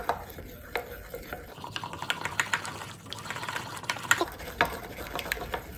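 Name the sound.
whisking homemade mayonnaise by hand without a mixer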